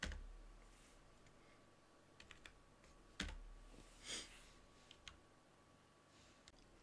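Keystrokes on a computer keyboard while code is typed, a few scattered clicks and taps alone in a quiet room, with two louder thumps standing out among the sparse, faint presses.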